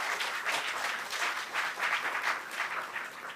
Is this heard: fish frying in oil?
no